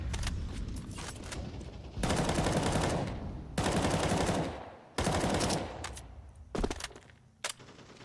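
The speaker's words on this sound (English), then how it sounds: "firing off a lot of shots" Gunfire in the PUBG Mobile video game during a Rivalry Series grand finals match, with long sustained bursts of rapid automatic fire and short pauses between them, loud and close, followed by a few sharper single shots.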